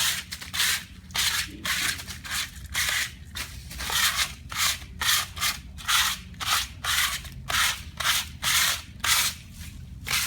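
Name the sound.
light scuffing of stamped concrete stone surfaces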